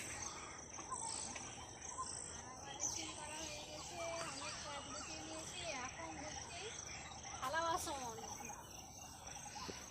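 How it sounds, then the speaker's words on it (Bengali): At dusk in a home garden planted with ginger, birds call and chirp faintly, with scattered tweets and insect-like trills against a quiet background and a voice murmuring at times. "পাখির আওয়াজ দেখেন চারিদিকে"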